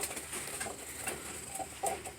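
Racing pigeons in a loft give soft, low intermittent coos among scattered faint chirps and rustling patter, steady and close throughout.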